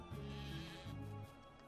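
Two sheep bleat in Craft the World video game, a pair of short wavering calls close together, faint and alone with no talk.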